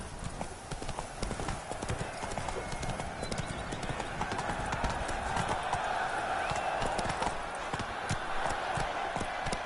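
Roach, a horse in a video game, gallops with a steady rapid clip-clop of hooves throughout, close and loud over a dense background of game ambience and music.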